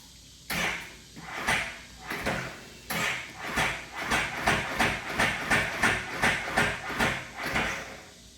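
A Can-Am Spyder motorcycle being cranked on a newly reinstalled battery gives a struggling start: a close, loud series of uneven mechanical bursts that settle into a rapid, steady chugging rhythm without catching.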